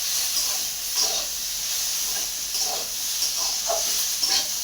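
Vegetables and greens sizzle in hot oil with cumin seeds, making a steady close hiss with small crackles and scraping stirs throughout, no voices.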